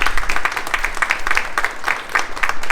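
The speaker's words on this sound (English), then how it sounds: "So a round of applause for that." Outdoor audience clapping at a Transgender Day of Visibility flag raising at Reading City Hall, a short burst of steady, moderately loud applause.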